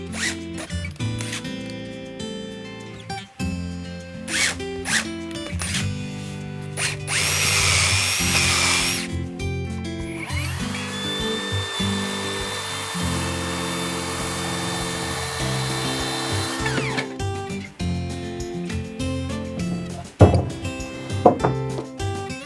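A power drill whirs in sustained bursts while securing an ash wood built-in bookcase, with a longer steady whine in the middle, set against background music and a few sharp knocks near the end.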